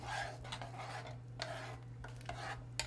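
Ingredients being stirred in a pot for an Argentinian pizza, with repeated scraping, rubbing strokes in short bursts over a steady low hum, fairly quiet and close.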